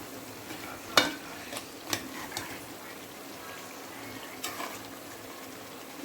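Chicken curry is stirred in a pan, with a soft sizzle under a few sharp scrapes and clicks of the spoon against the pan, close and quiet.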